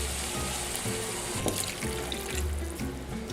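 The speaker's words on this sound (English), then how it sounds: "I'm going to put in 1 can of water with this can here" Water from a can pours steadily into a pan holding stewed tomatoes and tomatoes with green chilies for a one-pan macaroni dish, a continuous close splashing trickle throughout.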